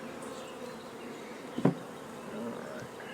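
Bees from a hive being caught and moved give off a steady low buzzing throughout, with a brief louder burst near the middle, close by and without talk.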